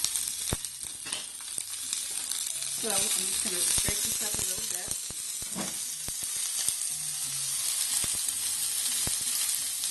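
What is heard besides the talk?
onion sizzling in hot pan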